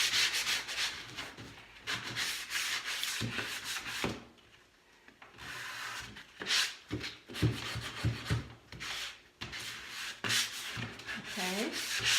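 A distressing sanding sponge scrubs chalk-painted wood with close, raspy back-and-forth rubbing strokes, pausing briefly before resuming in irregular bursts, with no voices.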